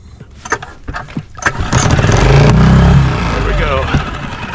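A Ranger Tug R27 boat engine cranking and catching, rising into a steady close rumble after a few knocks and bumps, with a voice heard briefly near the start.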